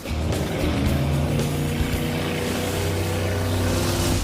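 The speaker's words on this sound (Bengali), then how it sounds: "ও ওরা তো জলের মধ্যে ড্রিফট করছে, পুরো ডোনাটের মতো লাগছে" Several cars drifting in circles through water, a loud steady engine roar with droning low harmonics that holds throughout, close and continuous with no speech.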